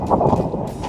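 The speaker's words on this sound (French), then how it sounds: "aïe aïe aïe, le vent" Wind buffets a microphone in gusts on a mountain road up Mont Ventoux, a loud low rumble that holds steady for about a second with no talk over it.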